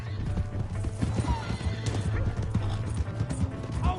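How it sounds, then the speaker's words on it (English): Horse hooves clip-clop in a steady rhythm with a sharp whinny breaking through, all in the Red Dead video game, heard close and loud under bursts of talk and shouting. "Hey, that's my horse!"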